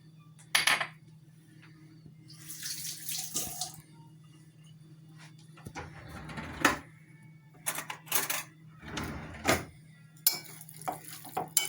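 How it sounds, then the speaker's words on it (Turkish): A utensil stirs dried tomatoes seasoned with thyme in a dish: scattered scraping and clinking bursts, close and fairly quiet, separated by pauses over a faint steady hum. "Karıştırıyoruz."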